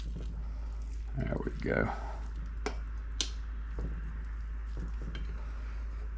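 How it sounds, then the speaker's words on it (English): Ground beef dropped into a pan for eggplant marinara parmesan: a short squishy plop and soft scraping, with light clinks of utensils against the pan and a person speaking briefly. "we're going to go ahead and add the ground beef right in the center of this"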